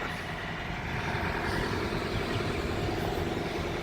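A truck engine idles nearby with a steady, low rumble, continuous and unchanging for a few seconds.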